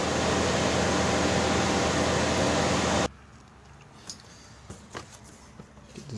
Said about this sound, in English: So that's why the fans are stuck on.